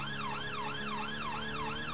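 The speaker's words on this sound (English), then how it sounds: "Back to the change siren tones again." A fire engine siren wails continuously in a fast rising-and-falling sweep, loud and close, over a low road and engine rumble, with no talk.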